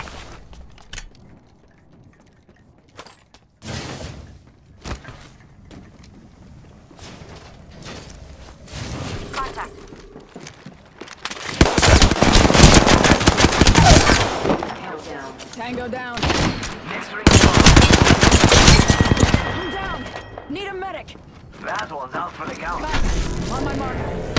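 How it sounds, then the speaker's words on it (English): Gunfire erupts in an Apex Legends match, with sporadic shots early and then loud, dense bursts of automatic fire amid mechanical clatter, while a player talks over the action. "They're shooting at me."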